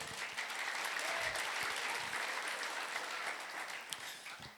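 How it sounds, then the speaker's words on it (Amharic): A congregation claps together in a Full Gospel church in Bole Arabsa, producing steady, dense applause that holds at an even loudness throughout, with no talk over it. "አጨብጭቡ አጨብጭቡ።"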